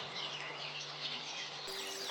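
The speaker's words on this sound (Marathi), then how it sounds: "हा पक्ष्यांचा किलबिलाट." Several birds chirp and twitter softly together in the background on a Konkan morning, a continuous faint chorus.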